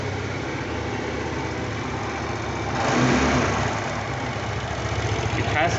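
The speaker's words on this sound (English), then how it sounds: "So I will show you how to fire up the engine." An Aprilia SXR 160 scooter's engine running steadily at idle, a mid-pitched continuous hum that swells briefly as if blipped before settling back, close by with no talk.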